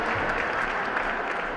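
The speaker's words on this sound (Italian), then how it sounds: "un applauso Antonietta" Audience applause for Antonietta at the Memorial Stravato 2018 award ceremony, a steady, dense wash of clapping from a crowd that holds evenly at a moderate level throughout with no voices standing out.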